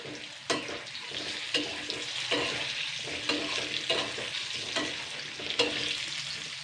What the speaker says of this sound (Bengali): নুন আর হলুদটা দিয়ে আমি আবারও ভালো করে এবারে ফ্রাই করে নেব